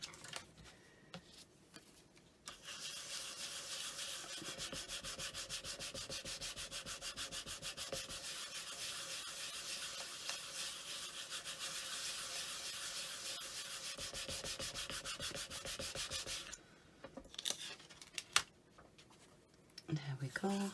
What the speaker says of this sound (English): So let's get this burnished.